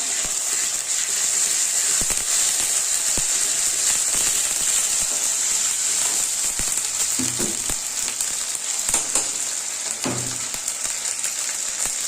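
Ginger paste, added with cardamom, cinnamon and garam masala for a duck curry, sizzles loudly and continuously in hot oil in a pan, with occasional scrapes and knocks of stirring.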